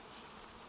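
Agitated honeybees buzzing at a beehive, a dense, steady, faint drone of many insects with no talk, filling the whole brief moment.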